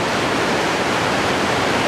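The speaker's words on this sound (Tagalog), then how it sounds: "Daloy ng tubig, malamig." Cold water flows steadily at a hot spring resort, a dense, unbroken rushing hiss heard up close with no voices.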